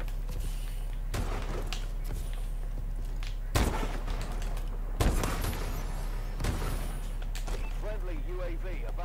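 Sniper rifle shots in Call of Duty: Advanced Warfare ring out as three sharp, loud reports a second or so apart, each with a brief tail, over constant low game rumble and scattered clatter.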